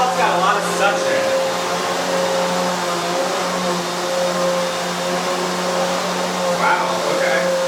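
A Hoover HushTone 15-inch commercial vacuum cleaner runs at close range with a steady droning hum and strong airflow whoosh, while a person's voice comes through faintly at the start and near the end.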